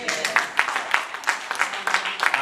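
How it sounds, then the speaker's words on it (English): An audience claps in a room with scattered, uneven applause of moderate loudness that runs steadily throughout. "Clapping was a little weak on that, right?"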